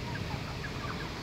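Broiler chickens about 38 days old on a poultry farm cluck faintly inside a steady, hissing shed background.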